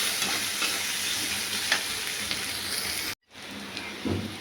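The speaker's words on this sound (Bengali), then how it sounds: "টমেটো দিয়ে আদা দিয়ে ভাজছি এটাকে ভালো করে।" Tomato and ginger frying in a pan, a continuous hissing sizzle with stirring scrapes, briefly cut to silence near the end before the sizzle returns a little quieter.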